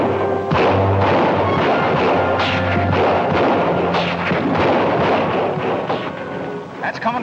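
Gunshots in a 1949 Western film, fired from hotel windows: a rapid series of sharp, loud cracks and booming reports, some echoing, running nearly continuously over a windy, rumbling background.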